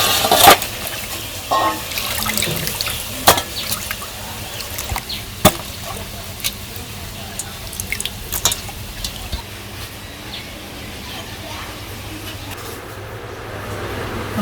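Water splashes and trickles as cut fish is rinsed in a village kitchen, with scattered clinks and knocks of the fish and vessel, fairly quiet and close, with no talking.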